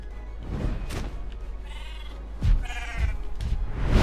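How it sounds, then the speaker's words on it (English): Sheep bleating in the How to Train Your Dragon video game DLC, several loud, close bleats in a row over a steady low background hum, with no speech. "Where's another sheep?"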